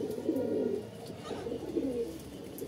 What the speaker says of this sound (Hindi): ये देखिए, सारे कबूतर हमारे ये रहे।